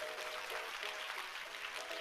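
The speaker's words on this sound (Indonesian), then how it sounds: "Yang saudara tahu dan saudara datang karena itu, boleh saya lihat tepuk tangannya" A church congregation applauds, a steady wash of clapping from many hands, moderately distant, with faint sustained tones beneath.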